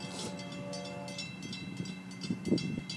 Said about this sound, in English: Dominic told me there's 2 Jeeps leading this train